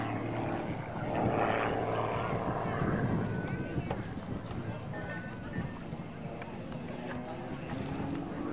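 A propeller-driven aerobatic airplane drones steadily at an airshow as it rolls into a knife-edge pass, its engine a continuous buzzing roar under an announcer's voice over the public address.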